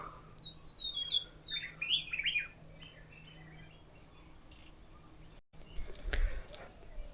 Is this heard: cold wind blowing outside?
no